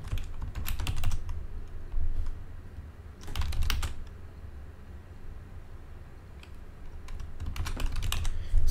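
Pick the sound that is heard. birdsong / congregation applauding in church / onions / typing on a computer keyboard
typing on a computer keyboard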